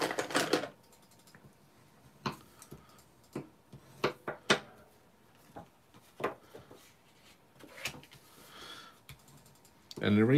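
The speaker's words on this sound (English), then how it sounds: "So I'm going to do some folding first and burnishing." Card paper is folded and burnished in a series of close, sharp taps and rubbing scrapes, irregular and separated by quiet gaps, with some low talking between them.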